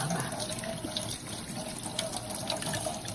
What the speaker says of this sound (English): I'm going to start out by washing my hands properly